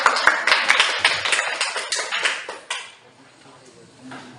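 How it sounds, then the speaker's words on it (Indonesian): A classroom of students claps together in a quick, loud rhythmic burst of hand claps that runs for about two and a half seconds, then fades into quieter room noise. "Nanti sebelum itu kita tepuk tangan dulu ya."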